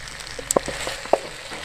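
Sauce-coated Korean-style chicken wings with white sesame seeds sizzle in a pan as they are mixed, a few sharp close clacks of a utensil over a soft frying hiss, brief and without talk.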